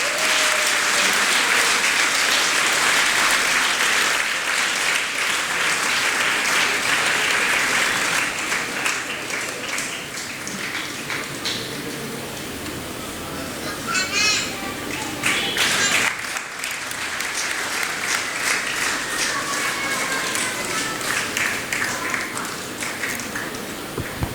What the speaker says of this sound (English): Please welcome Zia Neelam and Ujaswa Singh with a huge round of applause.